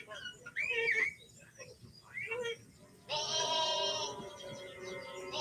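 Sheep bleat loudly in the Wallace and Gromit film A Close Shave, wavering cries in short bursts and then one long sustained bleat near the end, with voices from the film's soundtrack mixed in.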